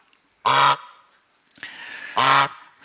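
A goose gives two loud, harsh honks about two seconds apart, each short and nasal, with quiet gaps around them.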